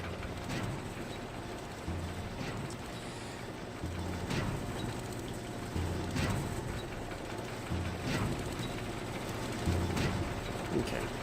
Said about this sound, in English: Okay, made it through the engine room.